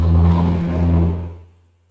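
Loud city street traffic outside a room, a steady low engine rumble from passing trucks and cars that rolls along and then fades away toward the end.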